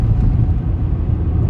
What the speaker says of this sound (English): The Golf's tootling along nicely like it does